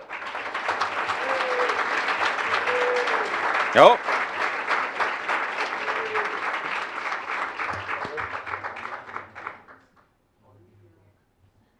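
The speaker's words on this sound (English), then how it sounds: "Please help me congratulate this year's Delta Pi Alpha recipients with a big round of applause." Audience applause fills an academic honors recognition reception for about ten seconds, steady clapping from a sizable crowd that stops abruptly, with a brief spoken exclamation and a few voices faintly under it.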